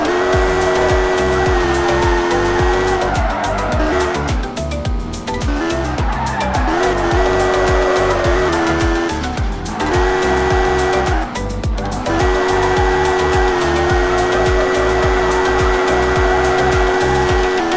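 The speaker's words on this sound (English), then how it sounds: "Let's do a small drift before starting our trip. Drifting on this road is fun." A car in the video game Car Simulator 2 drifts along a road with a loud, steady engine note under long squealing tire skids that swell and fade in several passes.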